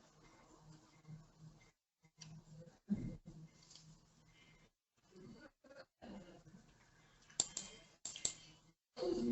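Several quick, faint clicks of a computer mouse on a web link in an SAP HANA Cloud Platform session, scattered among soft keyboard-like taps in a quiet room.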